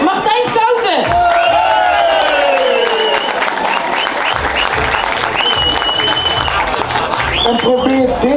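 A carnival crowd applauds the adjutant at a Boemeldonck prince installation with loud, sustained clapping and scattered whoops and cheers, while music plays and an announcer's voice carries over the top.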